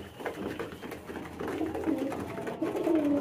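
Soft, low cooing of pigeons, close by and continuous, over a busy murmur of birds with no talking.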